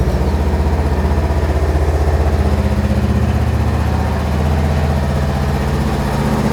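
A 2020 Honda CMX500 Rebel motorcycle engine idles steadily and loudly up close, a continuous low throbbing rumble with an even rhythm and no talking over it.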